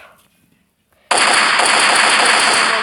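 Machine gun in a Minecraft gun mod (Desnogun) opens up after about a second of near silence, then fires one loud, unbroken, rapid burst that runs to the end.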